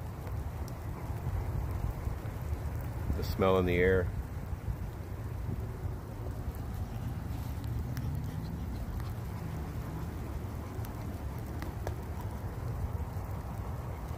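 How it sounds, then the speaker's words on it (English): Steady rain falls outdoors as a soft, even hiss, with someone speaking briefly over it partway through while the rainfall continues faintly underneath. "I love the sound of the rain."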